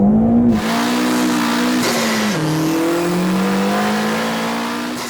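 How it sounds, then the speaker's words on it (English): A 330 bhp Volkswagen Polo GTI in Clubsport spec accelerates hard, its engine note climbing steadily, dipping once at a gear change, then rising again, loud and close from start to finish. "That was Luke's batshit crazy Volkswagen Polo."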